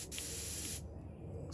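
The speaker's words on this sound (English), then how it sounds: "So I'm not going to spray the whole stencil at one time." A continuous hissing spray of ColorShift paint from an airbrush across a fishing lure stencil, steady for most of a second before cutting off, leaving a quieter low hum.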